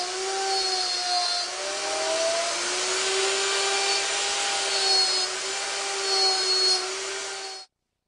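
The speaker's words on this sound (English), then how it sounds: "I'm using my homemade slot mortising machine to cut the mortises." A homemade slot mortising machine whines steadily as it cuts mortises into wooden table legs, its motor tone wavering slightly under the load before cutting off abruptly at the end.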